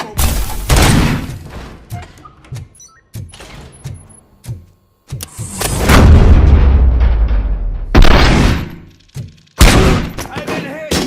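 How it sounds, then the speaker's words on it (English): Loud bursts of gunfire and booming blasts in the video game RoboCop: Rogue City come in irregular volleys, separated by brief quiet gaps, with shouting voices mixed in. "am I hearing gunshots?"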